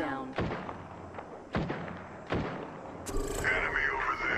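Gunfire in the online battle royale game Apex Legends, three sharp booming shots spaced about a second apart, followed by a brighter burst of game effects and sound over background noise.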